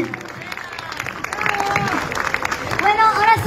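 A crowd applauds a singer at a live concert in Piura, Peru, steady clapping building louder toward the end, with a voice speaking over it.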